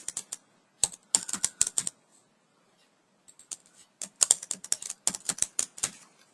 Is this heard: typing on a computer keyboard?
yes